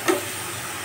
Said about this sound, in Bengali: তেলে ভেজে নেওয়া হচ্ছে